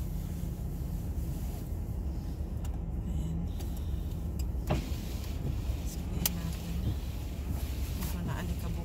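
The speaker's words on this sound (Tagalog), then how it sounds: "So painitin muna natin ang sasakyan." Car idling to warm up on a cold day in rural Canadian farmland, its engine a steady low hum with occasional clicks and knocks from the cabin, wind noise against the microphone, and a voice talking briefly.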